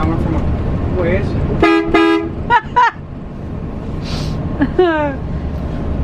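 A bus horn sounds up close: two long, loud blasts, then a few shorter honks, with people talking around it.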